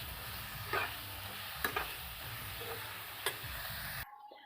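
Winter leafy greens frying in a wok, a steady soft sizzle with a few scraping stir strokes, close and moderately quiet, cutting off near the end.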